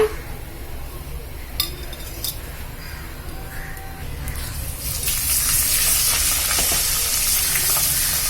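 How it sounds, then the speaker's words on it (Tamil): Fennel seeds, curry masala powder and biryani powder drop into about one and a half spoons of hot sesame oil for a brinjal gravy. A few clinks come first, then a loud, steady crackling sizzle builds halfway through. "சோம்பு வெடிக்க ஆரம்பிச்சிருச்சுப்பா."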